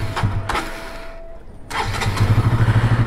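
A Bajaj Pulsar NS200 motorcycle with a faulty, water-fouled spark plug is cranked and started, with a short starter burst followed by the engine catching into a steady, close, throbbing idle.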